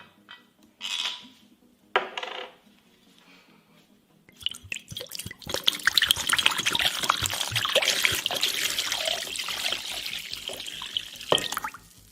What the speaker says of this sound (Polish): i wleję ekskluzywnej whisky marki Jura.